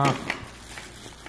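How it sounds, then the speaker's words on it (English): A small plastic bag from an emergency car kit being handled: a brief crinkling rustle at the start, then softer scattered crackles as it is moved, close by and quiet. "I have a little bag in here, a little plastic bag"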